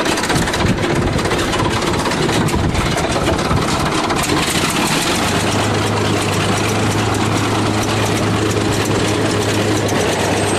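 A bulldozer engine idles at low revs, steady and loud, with a constant deep drone and a rough mechanical clatter running through the whole stretch, with no voices over it.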